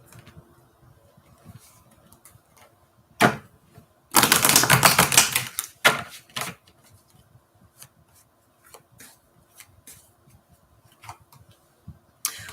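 Tarot cards being shuffled by hand, mostly light scattered ticks and taps, with one dense riffling burst lasting about a second and a half and a few sharper slaps, all fairly close and alone.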